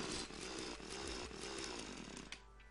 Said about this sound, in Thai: เราต้องมาทดลองสว่านนะก่อนนะสว่านมีไว้ทำอะไรกัน